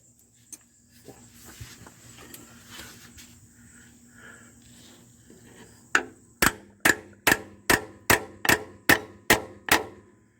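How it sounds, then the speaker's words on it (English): Hammer strikes driving a socket on while servicing a 1972 GMC C1500 pickup: a quiet stretch of handling noise, then about nine sharp, loud metallic blows in a steady rhythm, close by and with no talking. "Just hammer it on there."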